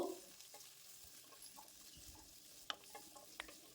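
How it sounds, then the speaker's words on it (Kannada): Green chilies and chopped onions frying in oil, a faint steady sizzle with a few soft spoon taps and two sharper clicks near the end, heard alone. "ಒಂದೆರಡು ಈರುಳ್ಳಿ ಸಣ್ಣದಾಗಿ ಹೆಚ್ಚಿ ಹಾಕ್ಕೊಳ್ತೇನೆ ಇವನ್ನು ಎಣ್ಣೆಯಲ್ಲಿ ಫ್ರೈ ಮಾಡ್ಕೊಳ್ಬೇಕು"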